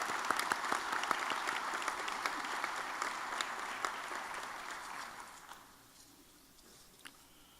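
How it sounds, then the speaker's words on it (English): Steady applause from a crowd at a swearing-in ceremony for a county executive and council, dense clapping that holds for several seconds before thinning and fading out toward the end. "Let's give them a round of applause."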